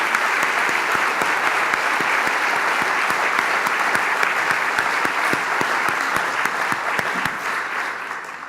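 Sustained applause from a large audience at a university president's fall welcome address as elected and advisory board members stand, a steady dense clapping that holds for about eight seconds before beginning to taper.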